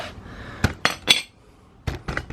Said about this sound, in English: Slide the brake clamp, the C-clamp out.